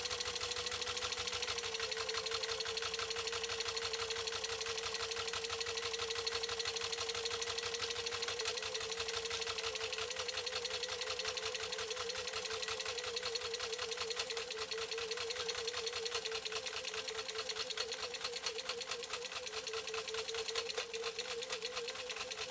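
A Singer 15-91 sewing machine stitches through elk hide with a fast, steady mechanical chatter and a constant motor hum, running evenly and close for the whole stretch with no voices.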